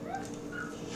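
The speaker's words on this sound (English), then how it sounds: "And there's my dogs. They're Chihuahuas." Chihuahuas barking and whimpering, high-pitched yips and whines close by over a continuous background noise.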